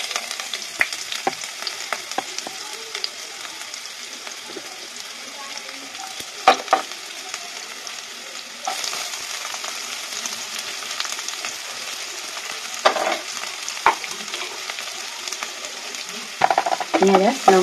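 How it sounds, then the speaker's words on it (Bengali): Chopped onion and green chilli sizzle in hot oil with panch phoron as they are stirred, a steady close frying hiss punctuated by repeated spatula scrapes and knocks against the pan. "পেঁয়াজ আর লঙ্কার কুচি আমি দিয়ে দিলাম। এবার এটা সময় ধরে নাড়াচাড়া করে নিয়ে"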